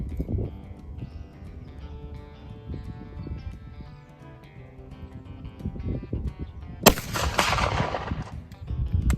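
A single loud gunshot from a .50-70 rifle loaded with 70 grains of 3F black powder, fired outdoors at 100 yards, sharp crack followed by a lingering rumble after a stretch of low background noise.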